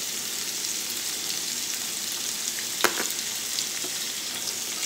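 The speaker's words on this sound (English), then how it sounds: "I'm going to saute it with some pepper" Squash sautéing with pepper in a pan, a steady close hiss of frying with a faint clink near the middle and no talk.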